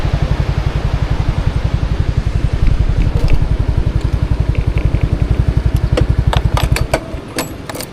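A boat engine at a weir idles loudly and close, a fast even thumping throb that stops near the end, leaving some light clicks and knocks.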